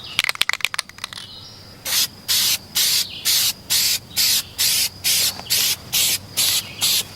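A spray paint can of Duplicolor Perfect Match silver birch metallic paint, used on a Chevy Tahoe bumper, gives about ten short, even hissing bursts in a steady rhythm, close and loud, after a quick rattle of clicks at the start.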